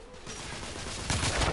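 Sustained gunfire from a shootout in The Order: 1886, with dense overlapping shots that swell louder toward the end.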